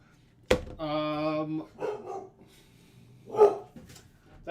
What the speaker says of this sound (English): my dog Bruce. Don't mind him